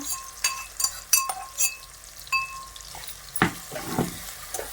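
Spinach with tomatoes and crushed peanut masala sautéing in a pan, a soft steady sizzle broken by repeated scraping stirs and a few light clinks of a utensil against the pan, close and moderately quiet.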